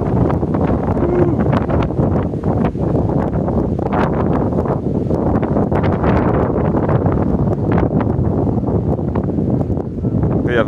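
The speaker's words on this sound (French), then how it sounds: "Il y a vraiment du vent" Strong wind buffets the microphone outdoors, a continuous loud rumbling roar with gusty flutter throughout and faint rustling underneath.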